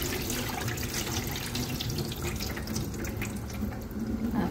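Water poured out while rinsing rice during cooking, a steady, continuous splashing stream at close range with faint dripping, no voices.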